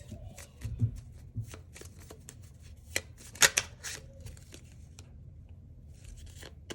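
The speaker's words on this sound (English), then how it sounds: "I was shuffling as we were talking and this one wanted to come out." Oracle cards being shuffled by hand, a soft, continuous papery riffling with repeated sharp card snaps and flicks, close and fairly quiet, with no talking.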